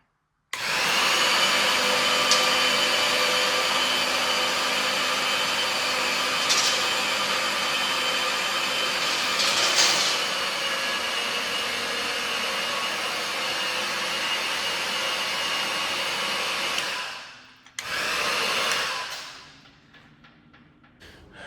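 A loud, steady engine roar from a zero-turn mower with its drive belt off runs continuously, then cuts out abruptly, briefly restarts, and winds down to quiet.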